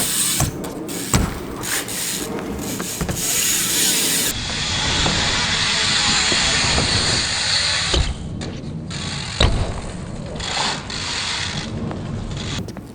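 BMX bike rolling up a quarter pipe ramp, hopping and landing, with whirring freewheel ratchet clicks, a rising hiss of tires on the ramp and a few sharp knocks from the landing, fairly close.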